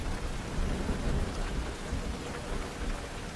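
Rain and thunder sound effect: steady heavy rainfall with low rumbling thunder rolling underneath, dense and continuous with no voices.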